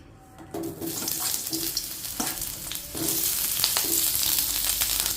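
Onions, curry leaves and garlic sauté in hot oil in a pan for a tomato chutney, a loud, steady sizzle broken by scraping stirs of a spoon, with no voices.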